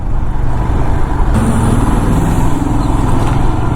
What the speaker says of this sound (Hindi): दिल्ली आया भी नहीं है और ट्रैफिक का हाल देख लो